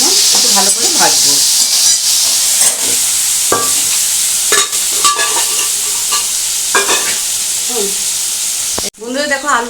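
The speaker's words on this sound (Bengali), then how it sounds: "এটাকে আমি এখন একটু ভালো করে ভাজবো।" Half-boiled potatoes fry loudly and steadily in a pan for a Bengali potato, pointed gourd and prawn curry, with a constant hiss, brief stirring knocks and a voice faintly underneath.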